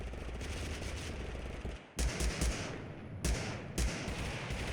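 A Browning machine gun fires in TABG, with several heavy, chugging bursts of rapid shots, close and punchy, over continuous background noise and with no voices.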